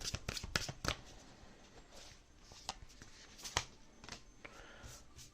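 A deck of oracle cards is shuffled and a card drawn, giving a run of quick, close, crisp riffles and flicks with softer paper slides between, fairly quiet and free of talk.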